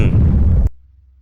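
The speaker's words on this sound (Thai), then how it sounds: "ใช่มันระเบิดได้แต่มันมากเกินไป" A bomb explosion in the Henry Stickmin video game: one loud, heavy blast with a rough, booming body that cuts off abruptly after about half a second, leaving near silence.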